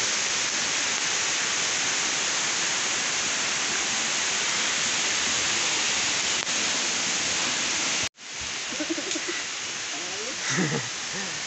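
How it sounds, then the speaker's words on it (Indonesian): A forest river rushes steadily as loud, broadband water noise, then breaks off abruptly partway through; afterwards quieter outdoor ambience remains with faint voices. "Ada sungai."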